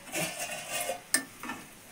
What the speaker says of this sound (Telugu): తాలింపు.